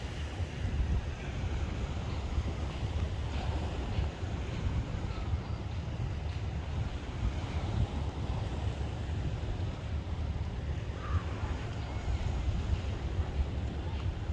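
Steady wash of ocean waves with wind rumbling across the microphone, continuous and fairly soft, no voices.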